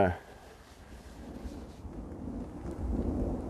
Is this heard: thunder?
yes